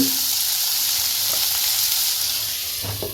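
Onions and tomatoes sautéing over low heat for a Chettinad crab gravy give a steady close sizzle with a few soft stirring scrapes, no talk.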